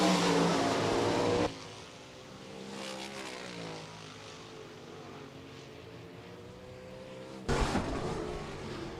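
305 sprint cars race at Rapid Speedway with a loud, buzzing engine roar that fades into a distant drone. Near the end the cars surge close again.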